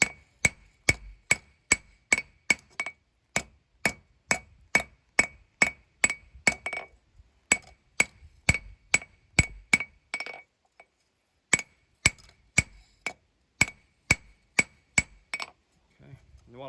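Rapid metallic hammer blows from a smaller hammer ring out on an anvil while forging a small neck knife, in steady bursts, each strike sharp and bright, with brief pauses between runs.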